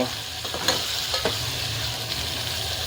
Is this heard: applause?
no